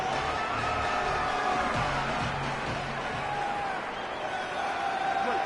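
Steady, loud stadium crowd roar from a college football video game, App State at Georgia Southern, building on a late-game 3rd and 4 and holding as a continuous din for the whole stretch.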